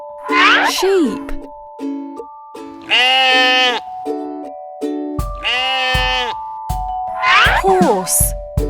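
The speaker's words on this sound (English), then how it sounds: "Sheep." Sheep bleating in a children's farm-animal song, several wavering baa calls spaced over a bright, rhythmic musical backing.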